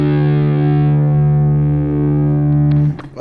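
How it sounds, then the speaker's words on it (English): A distorted electric guitar in drop D tuning lets one heavy chord ring out loud and sustained, slowly decaying, then cuts off with a brief scrape of string noise at the end. "Now for this we're going to be tuned down to drop D tuning"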